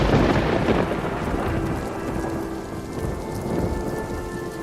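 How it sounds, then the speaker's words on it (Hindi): Steady heavy rain pours down with a deep rumble of thunder rolling underneath, loud and continuous with no voices. "ठंड की पहली बारिश है, सुबह तक खत्म हो जाएगी"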